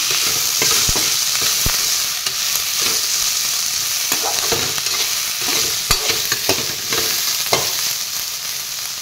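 Loud, steady sizzling of soybean chunks frying in a pan, punctuated by sharp scrapes and clicks of stirring at irregular intervals.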